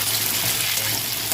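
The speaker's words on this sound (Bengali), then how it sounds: "ভালো করে নেড়ে ভেজে নেবো" Tomato, green chillies, potato and garlic frying in oil, a brief, dense, steady sizzle up close with a watery hiss, no voices.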